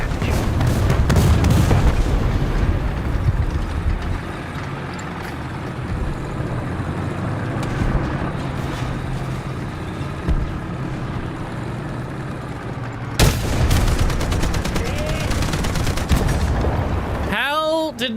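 Artillery and gunfire in the Delta Force video game, heavy booms and rumbling blasts over a continuous battle din, with a sharp loud crack late on, sustained and dense throughout.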